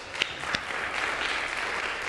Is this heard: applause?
yes